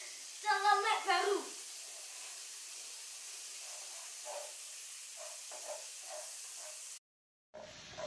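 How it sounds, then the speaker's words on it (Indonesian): Ingredients for black pepper beef sukiyaki sauté in a hot pan, giving a steady, even sizzle and hiss that runs nearly throughout, with a cluster of clinks early on and faint voices in the background. "Dan ini aku tumis dulu sampai harum ya."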